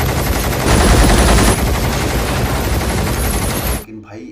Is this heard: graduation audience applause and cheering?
no